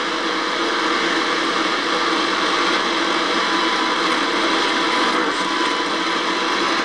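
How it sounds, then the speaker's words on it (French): Ghost box radio scanning rapidly through stations, producing continuous dense hissing static with faint flickering fragments, steady and loud throughout with no pauses. "Je lance donc le balayage de station"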